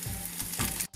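Dried red chillies dropped into hot oil for tempering Kerala-style parippu dal crackle in a continuous, fairly loud sizzle that briefly cuts out near the end.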